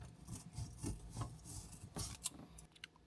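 Scissors or a blade cutting through an old, worn fabric strap on a Honda S2000 soft top near its rivet points, giving a few close rasping, rubbing cuts in bursts with short pauses.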